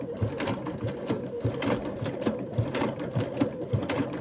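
A Baby Lock Sashiko sewing machine stitches steadily, its needle mechanism thumping in a quick, even rhythm with a constant motor hum, close and clear with no talking.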